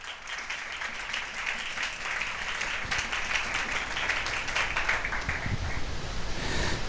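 A church congregation at a live sermon breaks into sustained applause, dense steady clapping from many hands that holds at an even level throughout.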